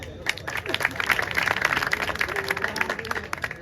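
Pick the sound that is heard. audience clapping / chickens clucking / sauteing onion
audience clapping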